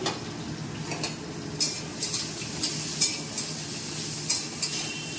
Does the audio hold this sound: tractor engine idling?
no